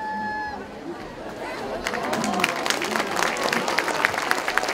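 A crowd at a Virgen del Carmen festival breaks into applause for a singer, with a brief voice at the start before clapping swells and continues with scattered chatter.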